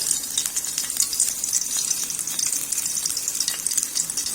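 White cumin seeds crackle and sizzle in a spoonful of hot oil for a kadhi tempering, a steady bright frying hiss with scattered small pops, close and continuous throughout.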